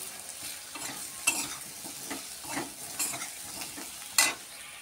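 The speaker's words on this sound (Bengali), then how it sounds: "এখানে দিব লঙ্কা গুঁড়ো, এখানে দিব হলুদ গুঁড়ো, দিয়ে আমি ভাজা ভাজা করে ঝোল দেব।" Chili and turmeric powder fry in a pan with a quiet, steady sizzle while a spoon stirs and scrapes, making a few sharper clinks against the pan.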